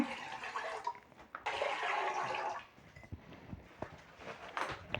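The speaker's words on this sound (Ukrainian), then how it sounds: "Додаємо літр води." A litre of water poured from a container into a pot on kitchen scales to make a marinade for honey peppers, a close splashing gush in uneven surges that fades toward the end.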